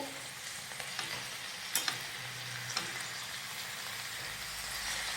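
Aloo methi, potatoes with fenugreek leaves, fries in a pan as garam masala and salt are stirred in, a steady soft sizzle broken by a few sharp spoon scrapes and taps.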